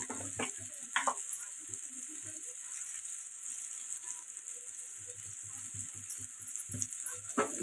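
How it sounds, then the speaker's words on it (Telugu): Chili powder and coriander powder fry in a pan for a tamarind plantain stew, giving a soft continuous sizzle with light scraping and stirring knocks throughout, fairly quiet and free of speech. "ఇవి కలుపుకొని ఒక నిమిషం పాటు ఫ్రై చేసుకుంది"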